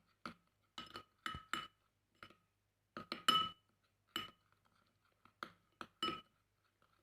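A spoon clinks against a bowl while mixing a homemade feet-whitening paste, about a dozen sharp, separate clicks in an uneven stirring rhythm, close and fairly quiet with no voice.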